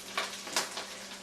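Cicadas sautéing in a hot pan, a soft, close sizzle with a few sharper crackles and stirring scrapes spread over a short moment.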